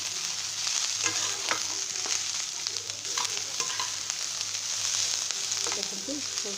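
Cabbage with peas frying in hot oil in a pan for Odia bandha kobi curry, a steady close sizzle with occasional stirring scrapes and clinks, no talking.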